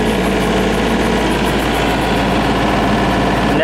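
A loud engine held at high throttle while a tire or track spins in place, a steady continuous roar with dense vibration that stays constant throughout.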